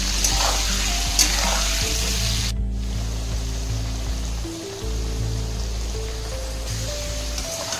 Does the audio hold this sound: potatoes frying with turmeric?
yes